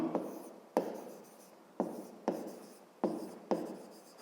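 A pen writes by hand on paper during a fifth-grade geometry exercise, making six or so crisp scratching strokes at a steady pace, close up and with no talking.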